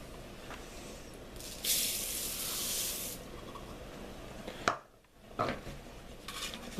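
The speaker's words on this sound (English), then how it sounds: "we'll go ahead and add the rice" A burst of dry, rushing patter as rice pours into a pot of boiling liquid for veggie jambalaya for about a second and a half, followed by a few clinks and soft stirring sounds.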